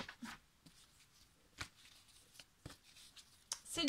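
A deck of oracle cards is shuffled with soft riffling and flicking strokes that come in short bursts, faint and close, with gaps of quiet between them.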